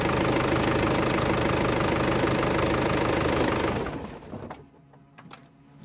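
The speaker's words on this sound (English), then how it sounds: "So the engine's idling away, I'll turn it off" An Isuzu 4JX1 diesel engine with its throttle plate removed idles with a steady, rattling chug, then cuts off near the end, leaving a brief shudder and near silence.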